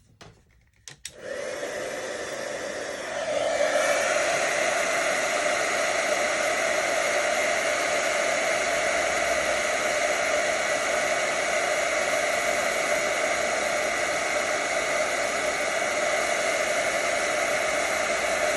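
A heat tool blows hot air onto a small stamped paper piece held with tweezers, a loud, steady close whir that starts after a brief click and runs unbroken.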